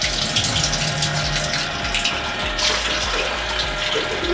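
Water rushes steadily out of a Cobra geyser system as its mains are closed and pressure dropped, a continuous loud gushing and hissing flow with a low pumping rumble, close by and with no talk.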